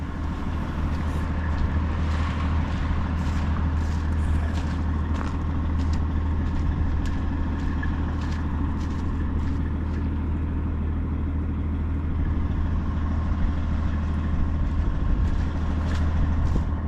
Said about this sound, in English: A lot of trucks here.